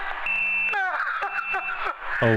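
Electronic alarm tones in a horror video game, with steady pitched beeps and sliding warbling sweeps repeating over a couple of seconds, loud and synthetic, with no speech over them.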